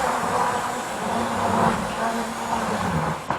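An OO gauge high-speed model train, an older model, runs steadily along its track with a continuous close whirring motor hum and rail rumble, unbroken and at even loudness throughout.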